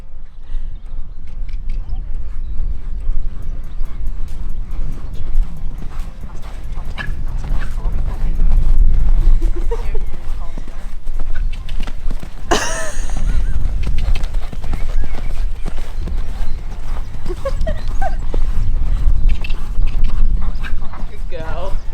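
A sassy pony's hooves clip-clop steadily on her first ride in three years, a continuous loud rhythmic footfall close by, with a dog whimpering and barking now and then and a sudden sharp burst midway.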